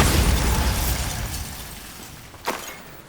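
Bombarda spell blast in Hogwarts Legacy: a broad, loud explosive rumble that decays over a few seconds, followed by a short sharp crack near the end, no voices.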